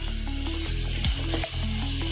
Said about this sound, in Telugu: ఇవి కొద్దిగా దోరగా వేగనిచ్చేసి కొద్దిగా కరివేపాకు వేసి కొద్దిసేపు దోరగా వేగనిద్దాము